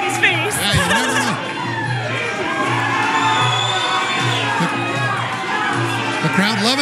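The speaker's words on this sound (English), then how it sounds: "The crowd loving these big boys going at it." A crowd cheers and shouts through a kickboxing fight between two heavyweights, a steady roar of noise with a commentator talking over it the whole time.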